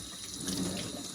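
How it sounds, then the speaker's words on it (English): Water runs from a sink tap as a glass piece is soaked, a steady hiss of flow that swells slightly midway, moderately quiet and close with no speech. "So I'm now at the sink, and all I have to do is to soak it with water."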